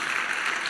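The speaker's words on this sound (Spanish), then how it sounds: "¿Cuánto le dan un fuerte aplauso al Señor por eso?" Congregation applauding in church, a steady, loud wash of many hands clapping together with no pauses over the short stretch.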